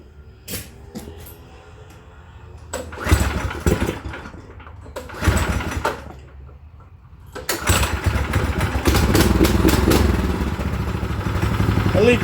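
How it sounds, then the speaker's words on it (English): A pull-start engine on a homemade high-speed sprocket vehicle, tried with the choke on, sputters through repeated cranking bursts, then catches and runs steadily, loud and close. "Gotta pull start it till I get the battery charged."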